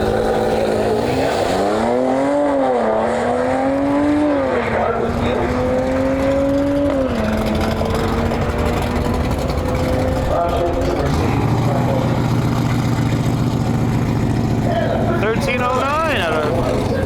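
Mercedes C43, likely near stock, on a drag strip run at Interlake Dragway, engine climbing through repeated upshifts with clear rising pitch sweeps, loud and continuous beneath ongoing commentary.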